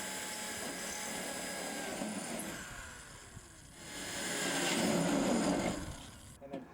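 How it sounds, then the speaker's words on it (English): A power drill bores 5/32-inch pilot holes in steel rafters for number 14 framing screws while apex braces go into a steel building. A steady, grinding whine runs throughout and swells louder for a couple of seconds midway. "For a number 14 framing screw, use a 5/32 drill bit, which will create the perfect size hole."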